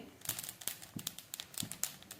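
Small crackles and pops from food just roasted in a hot pan, a quick irregular series of faint, close snaps with no talking.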